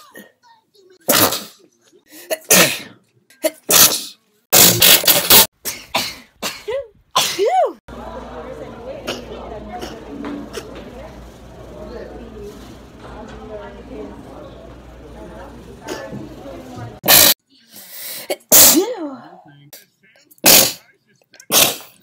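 Several loud, sharp sneezes burst out close by in quick clusters, then a quieter stretch with soft rustling and indistinct voices before more sneezes follow.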